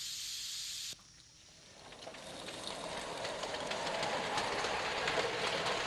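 A miniature steam train at a model engineering club sets off along its track, a steady hiss and rolling rail clatter building from quiet after an abrupt cut, growing louder and continuous.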